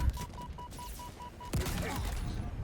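Video game gunfire crackles in a rapid burst, then a heavier shot lands with a sharp thump over a steady background hum.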